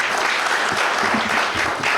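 An audience claps steadily and densely throughout, with the applause filling the space at an even volume at an evening Dussehra poetry event.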